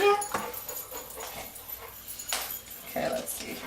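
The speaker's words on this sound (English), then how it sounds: "this is the huge dog you were talking about?" A large dog whimpers and yips softly at close range, with high thin whines rising over the background while people talk and greet it.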